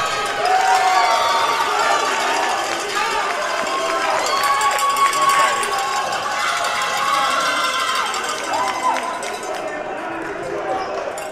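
A basketball game between the Tantramar Titans and Northumberland, with a loud, steady crowd roar and cheering from the stands, sneakers and bouncing balls faintly underneath, and voices mixed in throughout.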